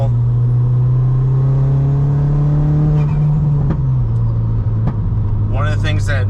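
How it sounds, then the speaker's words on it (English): A Ford Fiesta ST makes a fourth-gear pull, its engine note climbing steadily under load and then dropping as the throttle eases, loud and close from inside the car. "I'm going to do another quick little 4th gear pull"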